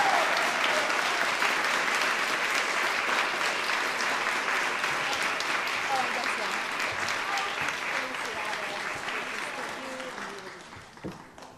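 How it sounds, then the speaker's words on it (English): Audience applause for an honoree at a Día de la Charra event at the National Cowgirl Museum, sustained clapping from a crowd in a room that gradually thins and fades out near the end, with faint voices beneath. "A round of applause for Jocelyn Cruz."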